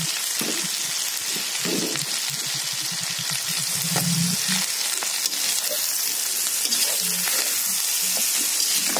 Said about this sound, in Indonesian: Dan ini nasinya aku masukkan.